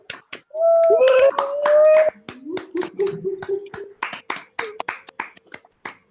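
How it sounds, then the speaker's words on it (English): Participants in an online meeting applaud the international president through unmuted microphones, scattered sharp claps in an irregular rhythm over a jumble of overlapping voices and tones. "Please, for a short moment, unmute yourselves and give a big round of applause to international president Richard E.Peck."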